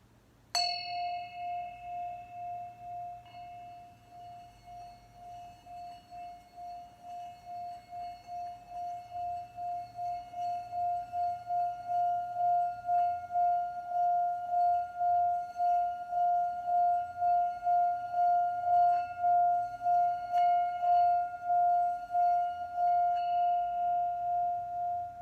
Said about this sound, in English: So please listen to this beautiful sound of the bell.